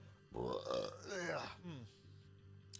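A man lets out one long, loud, drawn-out burp that rises and falls in pitch, followed by a brief quiet tail and a faint click at the end.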